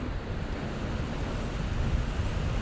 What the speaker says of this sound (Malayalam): നല്ല ഓളും നല്ല മഴയും